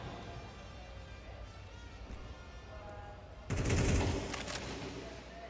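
Gunfire in a Counter-Strike professional match, rapid bursts that grow louder in a dense volley partway through, over the steady hum of game sound with no clear talk.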